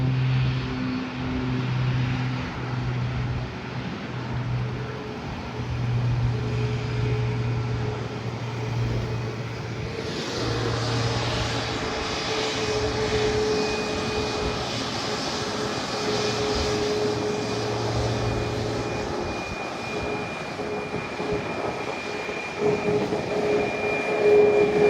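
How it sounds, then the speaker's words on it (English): A Sun Country Boeing 737-800 arriving from Minneapolis roars in at San Juan, its engine noise holding steady, then swelling into a louder, brighter rush about ten seconds in that persists to the end, with no talking. "this is Sun Country flight number 761 coming in from Minneapolis on a"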